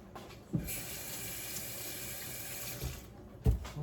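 Water runs steadily from a kitchen tap as a zester is rinsed under it, a continuous hiss with a couple of brief knocks from the utensil against the sink.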